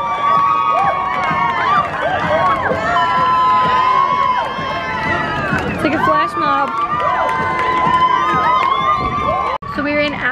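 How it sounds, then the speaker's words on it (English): A crowd in a shopping mall cheers and shouts over and over, with many voices whooping and yelling together at a loud, steady level, plus a short drop near the end. "they keep redoing the cheering thing they were just doing in the dance"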